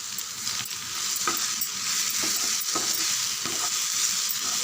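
Green chillies, curry leaves, ginger and garlic frying in a pan while being stirred, a steady loud sizzle broken by repeated scraping strokes of a spoon at an uneven rhythm.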